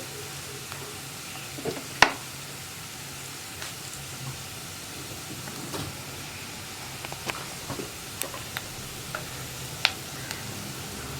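Onions with Kashmiri chili powder and turmeric frying in a pan over a low flame, heard as a steady soft sizzle with occasional ticks and stirring clicks, with no voices.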